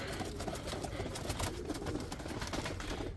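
Rakovnik roller pigeons cooing inside a newly built kit loft, a steady low murmur of overlapping coos filling the space with no talking.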